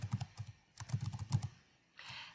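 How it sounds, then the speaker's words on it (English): Quick bursts of keystrokes on a computer keyboard while entering a formula in a spreadsheet, close and clicky in uneven clusters, then a brief pause and a softer rustle at the end. "So here we're typing"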